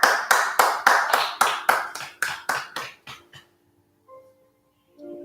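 A church congregation clapping in unison to praise the Lord at the end of a French-language service, about a dozen loud, even claps that quickly fade into quiet.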